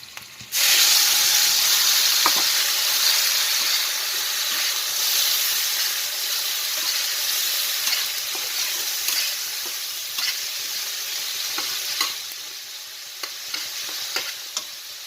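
Ground spice paste hits hot oil in a pan with parshe fish and sputters loudly, then a steady sizzle continues while a utensil scrapes and taps in irregular strokes.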